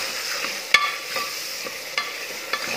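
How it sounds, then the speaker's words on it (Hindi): Tomatoes stirred and fried in a pan while cooking mutton, giving a steady close sizzle with several sharp scraping knocks of a spoon against the pan, with no voices. "फिर इसमें आप टमाटर मिला देते हैं और टमाटर को भी अच्छे से"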